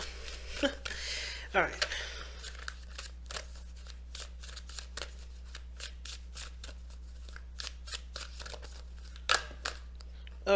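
Oracle cards are shuffled by hand in a run of papery riffles and soft flicks, some louder and close, over a low steady hum. A voice briefly speaks near the end.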